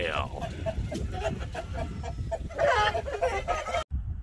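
Chicken clucking on a farm, scattered soft clucks and fowl calls mixed with other busy yard noise and a brief voice, steady at moderate level before cutting off near the end.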